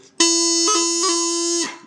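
Bagpipe chanter plays a sustained note with a double E embellishment, two quick grace-note flicks breaking the steady drone-backed tone, played alone and fairly loud before it stops.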